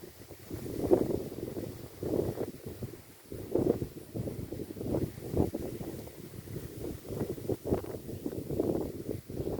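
Wind gusts along an outdoor path on an afternoon, buffeting and rumbling in uneven surges that rise and fall, fairly close, with no voices.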